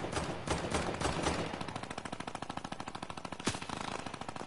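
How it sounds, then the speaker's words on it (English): Rapid automatic gunfire from a PS4 shooter game, dense bursts rattling continuously with one sharper loud shot near the end. "Getting shot at somewhere else."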